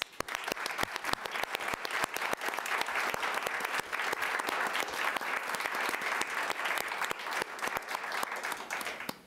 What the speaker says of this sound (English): Will you, will you please join me in giving a round of applause to these businesses?